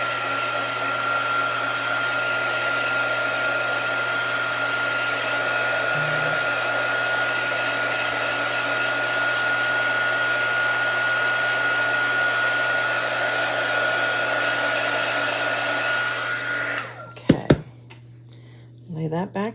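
A hair dryer runs continuously for about seventeen seconds, drying chalk paste on a Chalk Couture transfer in a craft setting. The steady loud whir with a low hum cuts off abruptly near the end, followed by a few brief handling noises.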